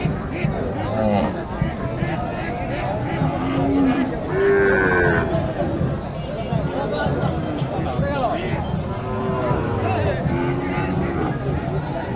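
Cattle moo repeatedly at a crowded market where Sahiwal cattle are being priced. Several short and drawn-out calls rise over steady crowd chatter, with people talking nearby throughout.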